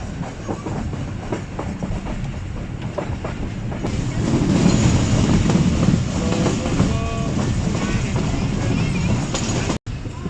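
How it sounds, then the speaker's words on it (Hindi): A train runs, clattering and rumbling on the Rawalpindi to Mianwali line as it nears Jamat railway station, heard from on board with steady wheel noise that grows louder midway. A voice speaks faintly beneath the din. "ग्यारह बज कर 13 मिनट हो रहे हैं और ट्रेन इस वक्त पहुँच रही है जम्मट रेलवे स्टेशन पर"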